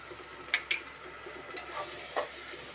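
Prawn biryani masala being stirred and fried in a pan, a soft sizzle under a few sharp spoon scrapes and clinks, fairly quiet with no talk.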